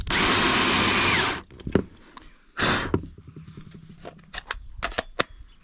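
A power drill bores a hole for a homemade voltage regulator built from an old guitar amp, with one long steady whine, a brief burst, a second shorter run, then scattered clicks and handling knocks, close and fairly loud.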